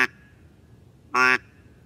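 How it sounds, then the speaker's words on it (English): A mallard duck call blows one short, loud quack near the start, then a fuller, louder quack with a sharp start and stop about a second later, with quiet in between. "So we're just going to keep practicing that quack."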